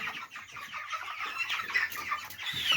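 Chicks cluck and peep close by in quick, irregular bursts, a busy chorus of young chicken chatter.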